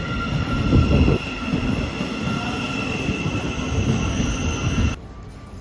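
A Class 707 or 717 train on the 13:54 service to Moorgate pulls into Finsbury Park station, giving a steady, loud rumble of wheels and traction with faint squeal. Near the end it drops off sharply as the train passes.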